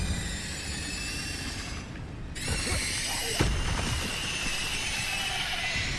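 Incendio fire spell cast in Hogwarts Legacy, a rushing whoosh with a sharp break near the middle, then a fresh burst of flame roar that carries on loud and sustained to the end.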